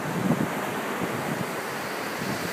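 Surf rolling onto the sand at Myrtle Beach State Park, a steady wash of breaking waves with wind rumbling across the microphone, moderately loud and continuous with no voices.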